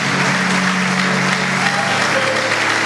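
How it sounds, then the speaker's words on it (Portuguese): A church congregation bursts into strong, continuous applause, dense and close, holding at an even loud level for a few seconds without pauses. "Se for para Ele, é mais forte esse aplauso."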